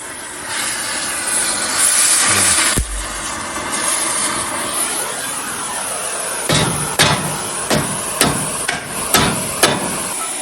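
A hammer strikes metal parts on a vintage Ford Bronco during rebuild prep: loud, sharp blows ring out one after another in an uneven series, after a stretch of steady hissing mechanical noise.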